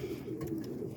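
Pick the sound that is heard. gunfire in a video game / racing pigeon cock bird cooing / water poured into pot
racing pigeon cock bird cooing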